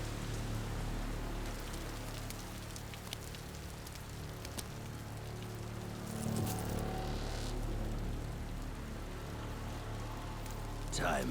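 Steady rain in the video game Like A Dragon: Infinite Wealth, a continuous hiss with scattered drops that swells slightly near the end and holds at a moderate level throughout.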